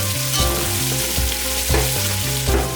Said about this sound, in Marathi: कांदा लालसर होईपर्यंत परतून घ्यायचा आहे